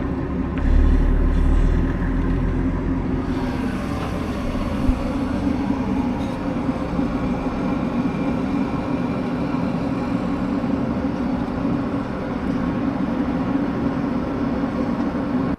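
A truck hauling a 53-foot Trail King deck trailer pulls away, a steady low engine rumble and rolling drone that stays loud and continuous with a brief heavier burst near the start.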